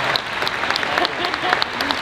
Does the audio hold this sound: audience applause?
yes